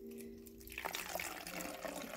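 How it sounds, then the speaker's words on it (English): Warm water is poured slowly into a bottle, a close, soft continuous trickle and gurgle that picks up after a brief moment and keeps flowing steadily throughout. "we are gonna start with the 3/4 cup of warm water. So we're gonna just slowly pour that in."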